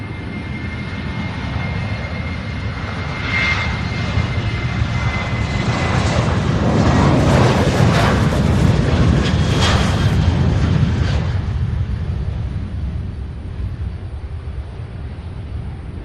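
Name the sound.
airplane taking off from runway 17 right at Louisville airport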